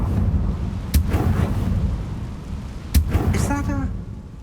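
An explosion spell detonates in the video game Hogwarts Legacy, two sharp booming blasts about two seconds apart over a low rumbling game background, followed by a brief voice.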